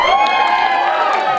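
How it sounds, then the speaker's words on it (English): A live audience cheering for a nerd parody band taking the stage: a steady wash of crowd whoops and shouts, loud and close throughout, with scattered applause. "Thank you for cheering."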